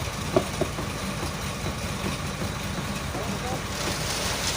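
A construction mixer machine's engine runs steadily, chugging close by with a rough rumble while concrete is mixed and loaded into a trolley at a roof-slab job, a few knocks early on and hiss rising near the end.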